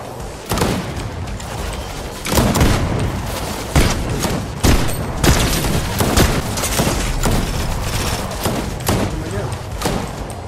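Rapid bursts of gunfire in the game Fortnite, repeated sharp shots and thuds in irregular clusters, loud and close, with players talking over the shooting.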